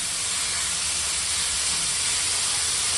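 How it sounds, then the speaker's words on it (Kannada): Fenugreek leaves fry in a hot pan with a steady, loud sizzling hiss that holds evenly from start to finish, with no voices over it. "ಸ್ವಲ್ಪ ಇದು ಕಹಿ ಎಲ್ಲ ಹೋಗೋವರೆಗೂ ಫ್ರೈ ಮಾಡ್ಕೊಳ್ಳೋಣ."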